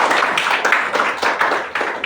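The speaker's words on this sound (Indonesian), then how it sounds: "Tepuk tangan untuk jawabannya." A classroom of students claps for a classmate's answer during an Islamic religious education lesson on zakat fitrah: steady, fairly loud, uneven clapping filling the whole moment with no talking.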